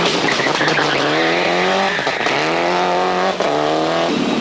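A Toyota rally car (number 2) is driven hard on a 1996 European Rally Championship stage, its engine revving loudly and close through repeated rising gear pulls, with brief dips between shifts and some tire noise.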